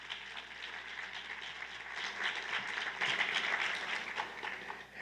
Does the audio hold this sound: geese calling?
no